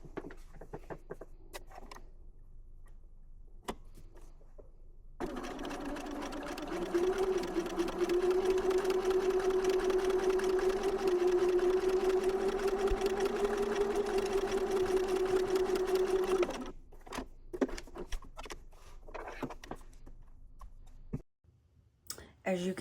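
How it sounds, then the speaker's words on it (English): A sewing machine stitches a flying geese quilt block in one steady, even run of about eleven seconds, close by, with small clicks and handling noises and some talk before and after. "I have now sewn the first square on the left-hand side of the block"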